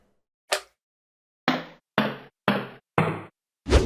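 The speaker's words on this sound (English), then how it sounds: "There's the sound of a magma cube moving or jumping or getting hit" Six deep, muffled squelching thuds, a single one then a quick run of four, and a last one, like a heavy rubbery blob bouncing; a pitched-down Minecraft magma cube sound.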